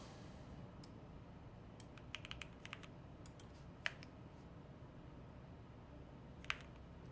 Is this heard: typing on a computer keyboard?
yes